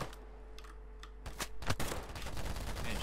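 Rapid bursts of automatic gunfire crackle in the shooter game Polygon, arriving in a dense clustered volley after a few sparse shots, moderately loud and without talk.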